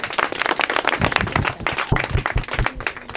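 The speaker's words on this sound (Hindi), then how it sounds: "मैडम के लिए एक बार ताली हो जाए आप लोगों की तरफ से।" A crowd of people claps in honour of a woman at a village gathering in India, with dense, uneven hand claps coming close and loud throughout.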